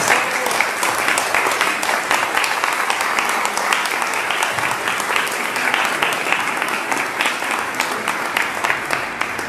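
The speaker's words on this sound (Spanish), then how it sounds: "para quienes les pido un aplauso." A crowd applauds steadily, dense clapping filling the room at an even level without pause.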